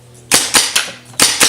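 A remote control turret firing during a test, five sharp, loud pops in a quick, uneven burst, close by with nothing else heard.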